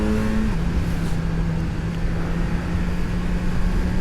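A 2026 Kawasaki Z1100 motorcycle pulls away and accelerates, its engine a loud, steady drone that holds a tone and then drops slightly in pitch through a gear change, heard close with wind noise and no talk.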